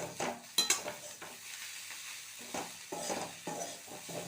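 Broad bean and lentil usili stirred in a pan, soft intermittent scraping and light sizzling at close range, quiet with brief clatters.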